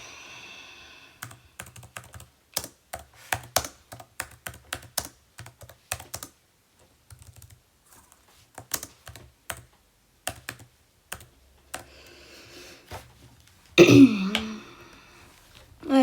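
Taps on an iPad keyboard come in uneven bursts, crisp and close, with short pauses between runs. A brief throat clear or cough breaks in near the end.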